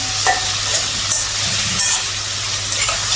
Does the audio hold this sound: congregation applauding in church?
no